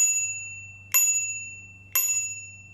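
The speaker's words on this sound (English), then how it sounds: "it only comes with the basic bell" A bicycle bell on a Velowave Breeze T e-bike dings three times at even one-second intervals, each bright ring fading out, over a low steady hum.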